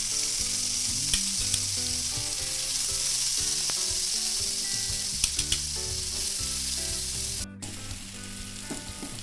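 Chicken leg pieces for Afghani chicken curry fry in a pan with a loud, steady sizzle up close, dotted with occasional small pops and crackles throughout.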